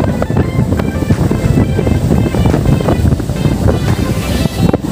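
Steady roar of waves and surf at Payung Beach in Nabire, Papua, with gusting wind buffeting the microphone, continuous and fairly loud throughout.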